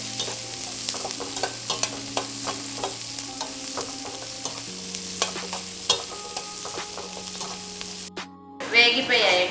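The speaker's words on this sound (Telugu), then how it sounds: "వేగిపోయాయండి, బాగా ఎర్రగా వేగిపోయాయి." Onions frying in a pan for Chettinad masala paniyaram, a steady soft sizzle broken by repeated clinks and scrapes of stirring, with a faint hum beneath.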